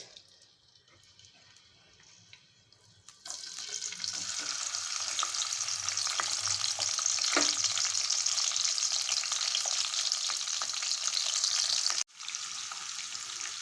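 Onions, green chili and tomato fry in hot oil in a kadai, a quiet start giving way to a loud, steady sizzle that holds for about ten seconds, broken by a brief dropout near the end and a few stirring scrapes.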